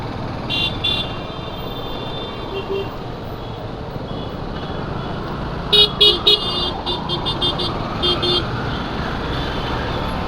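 Busy road traffic jammed by broken-down vehicles at night, a constant rumble of engines with repeated short horn toots, including a cluster of quick honks partway through.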